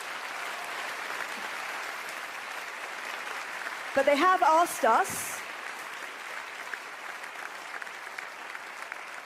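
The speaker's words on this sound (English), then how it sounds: "A big round of applause." An audience at an award presentation ceremony keeps up steady, moderate applause throughout. A speaker briefly talks over the clapping partway through.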